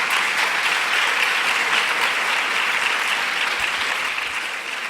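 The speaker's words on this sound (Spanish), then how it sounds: "os agradezco el aplauso" Steady audience applause fills the room without pause at a school academic and career guidance talk, dense and even throughout, easing slightly near the end.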